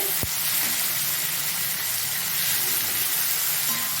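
Prawns seasoned with salt and turmeric sizzle steadily in hot oil, a dense, even frying hiss that carries on alone throughout, with a brief sharp clink near the start.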